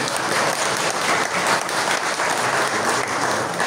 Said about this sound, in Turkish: Şimdi bunu alkışlayalım.